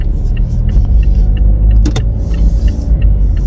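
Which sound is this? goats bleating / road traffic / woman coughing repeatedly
road traffic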